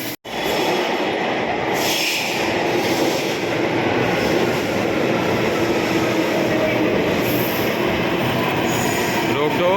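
A metro train rumbles and hums loudly with steady wheel noise and faint squeals as it pulls away, filling the whole stretch without a break.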